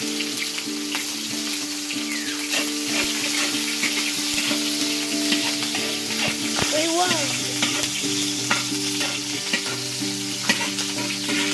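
Garlic and onion sauté in a hot pan, a dense continuous sizzle with scattered stirring scrapes and clicks, loud and close throughout.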